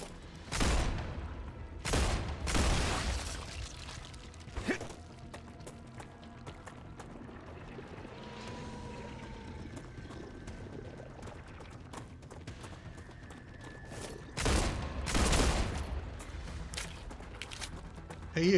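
Gunfire from a weapon in the video game StarRupture, several loud bursts of shots near the start and again around the middle of the clip, with softer game ambience and faint effects between them.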